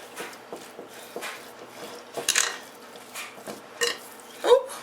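Soaked crushed nuts are stirred into batter, a series of soft, wet squelches and light scrapes against a bowl, irregular and close, with a few louder sticky thuds.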